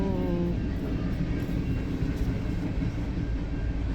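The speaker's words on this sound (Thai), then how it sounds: "รถไฟยาวที่สุดในโล" A very long freight train rolls past in a steady, heavy rumble, with wheel and car noise continuing unbroken and fairly loud throughout, and a faint whining tone near the start.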